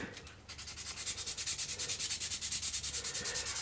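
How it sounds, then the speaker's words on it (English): Hand sanding over scratches on the body of a baritone guitar build, quick, even back-and-forth strokes repeating in a fast steady rhythm, close and fairly quiet, with no talk. "I do actually see some scratches in the external, so I need to sand that down as well"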